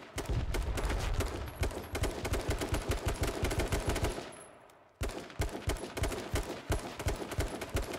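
Rapid automatic gunfire in the video game H1Z1 rattles out in dense, loud bursts, breaking off briefly midway and then resuming.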